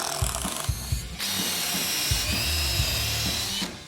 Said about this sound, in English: We are going to drill out holes in our 6x6 lumber and squeeze them together with some threaded rod.